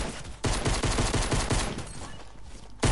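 Rapid bursts of video-game pistol fire from two guns, dense cracking shots in quick succession, loud and close, stopping briefly near the end before another shot.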